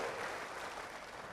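Congregation in a church clapping together during a sermon, a brief, even burst of applause heard at moderate distance without voices.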